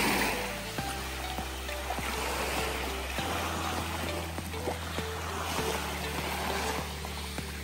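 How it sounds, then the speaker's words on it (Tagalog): Waves washing onto a white-sand beach in Marinduque at low tide, a continuous surf roar with recurring surges of breaking water, fairly close and steady with no talk. "Yan na yung pinakamalakas na alon na nakita ko dito sa Marinduque."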